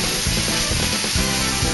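Food sizzles on a preheated hot griddle with bread, jalapeno pepper jack cheese and tomatoes, a loud, dense, continuous frying hiss with soft clattering and stirring underneath.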